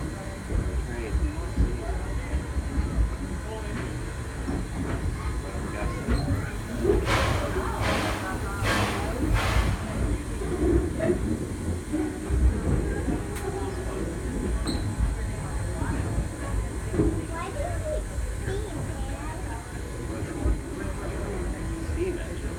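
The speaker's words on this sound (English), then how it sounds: "Steam engine. Needs to make steam pressure." A steam hiss from the Edison steam train engine building pressure, a steady broadband rush with a few sharper bursts of venting in the middle, heard at moderate distance over a constant low rumble.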